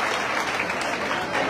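A crowd claps loudly and continuously for a felicitation at a public gathering, dense applause filling the whole stretch.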